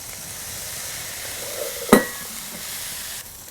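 Butter and egg sizzle steadily in a hot pan on a burger breakfast griddle setup, a soft continuous frying hiss with one sharp clack of the egg or utensil midway, no talking.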